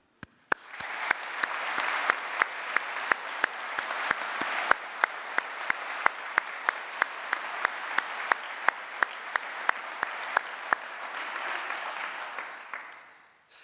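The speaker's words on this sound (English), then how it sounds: "I'd invite your family and friends here today to applaud what you've actually managed to do." Graduation audience of family and friends applauding at a University of Liverpool ceremony: dense, even clapping that swells in, holds steady for over ten seconds with a few sharp nearby claps standing out, then fades away.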